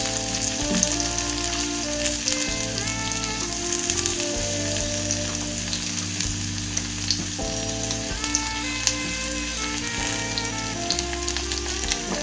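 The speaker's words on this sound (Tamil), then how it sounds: "கட் பண்ணி வச்சிருக்கிற வெங்காயம் போட்டுக்கலாம் அதோட கொஞ்சம் கருவேப்பிலையும் போட்டுக்கலாம்" Chopped onions and curry leaves frying in hot oil for a mushroom gravy, a loud continuous crackling sizzle up close with steady spattering and no talking.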